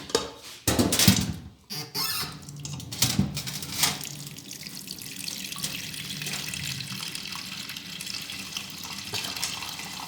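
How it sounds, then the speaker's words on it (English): Water runs from a tap into a pot, about two cups for pineapple-peel tea. It starts with a few clunks and squeaks of handling, then becomes a steady, close splashing stream. "so let's go and put in some water"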